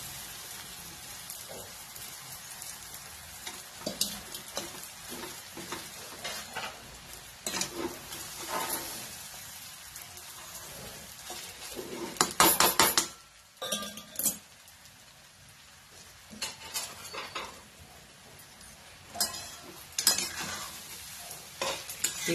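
Sabudana (tapioca pearls) being stirred and fried in oil in a pan on a gas stove, a steady soft sizzle broken by repeated scraping and clinking of a spoon against the pan, with no talking.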